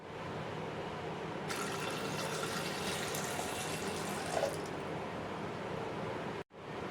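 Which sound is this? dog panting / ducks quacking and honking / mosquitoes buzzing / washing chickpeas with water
washing chickpeas with water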